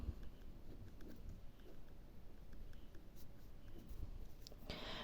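Pen or chalk scratches faintly across a board as a fraction line is drawn during an algebra lesson on rational fractions, with quiet scattered strokes and taps close by and no speech.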